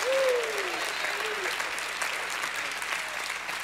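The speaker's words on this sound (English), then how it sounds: "Give him a hand clap and a shout of praise." A church congregation claps together during a spring revival service, the steady applause running throughout with a short sung or voiced tone rising briefly above it near the start.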